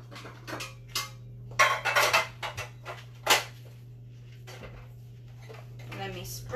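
Metal muffin pans clatter and clank in short bursts against each other, close by, over a steady low hum.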